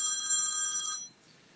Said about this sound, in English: my phone is ringing now